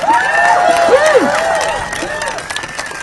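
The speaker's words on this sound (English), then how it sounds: "And another immense round of applause for Professor Ryan Enos" A crowd at a university rally for international students cheers and applauds for a professor, with shouts and whistling voices rising over continuous clapping that slowly eases.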